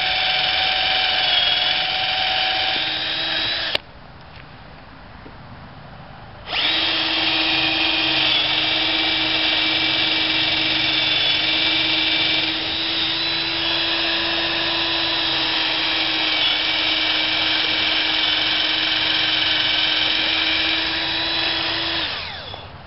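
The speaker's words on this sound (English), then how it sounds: "I'm just going to drill all the way through." A power drill whines steadily as it bores through wood, pausing briefly after a few seconds, then grinding on continuously for a long stretch.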